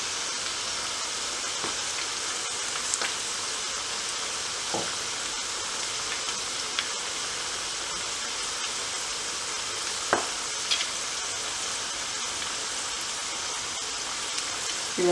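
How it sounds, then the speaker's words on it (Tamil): Paruppu vadai, the lentil fritters, deep-fry in hot oil with a continuous bright sizzle and occasional small pops and crackles, close by and steady throughout, with no talking. "இதுவும் பொரியட்டும்."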